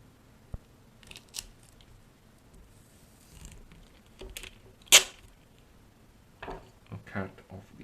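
Scissors snip off excess tape during a DIY hair-weft project, a few sharp close cuts with one louder crisp snip, amid quiet handling noises and no talk.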